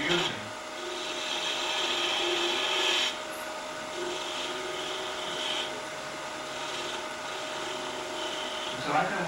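A bowl gouge cuts a groove into a small practice wood spindle on a lathe, giving a sustained close rasping hiss that stops briefly near three seconds and resumes, with the lathe humming underneath.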